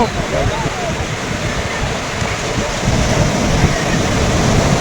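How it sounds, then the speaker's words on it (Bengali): Sea waves at Puri beach roar loudly and continuously, a dense crashing surf that swells a little louder toward the end. "দেখতে পাচ্ছ আমার পেছনে রয়েছে এখন পুরীর সমুদ্র, বিশাল গর্জনে ছুটে আসছে অনেক অনেক ঢেউ"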